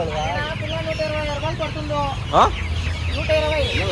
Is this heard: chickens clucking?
yes